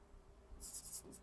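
Chalk or marker writing on a board in a soil science lecture, a few quick scratchy strokes arriving late, faint and close against a quiet room.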